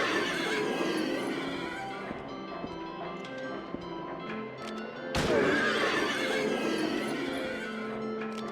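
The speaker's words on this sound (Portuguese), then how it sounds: "tô dando de tiro de shot aqui nos cavalos aqui" Horses neigh and whinny repeatedly in Silent Hill 3, their cries layered with hoof clatter and game ambience, with a sharp burst around the middle followed by more overlapping whinnies.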